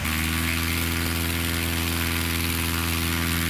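A STOL aircraft engine runs hard at full throttle on its takeoff run during a Heritage STOL race, a loud, steady droning roar with strong low harmonic tones and no pauses.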